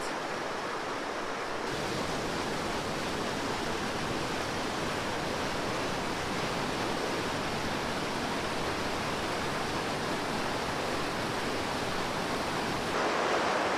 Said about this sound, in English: rushing so fast, it's like boiling white water